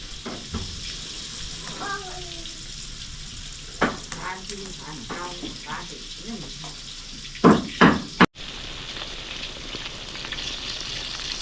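Fish sizzles and crackles in hot oil, a steady frying hiss throughout, with a few clattering knocks near the end and voices talking over it.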